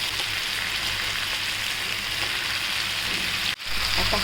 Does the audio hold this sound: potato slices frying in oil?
yes